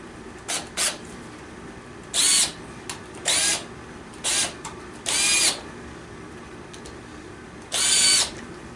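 A power drill drives screws into a small piece of hardwood in several short whirring bursts separated by pauses, close and fairly loud.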